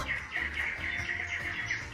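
Small birds chirp and tweet in a steady, busy stream of short, bright calls, repeating without pause at moderate loudness with no talking.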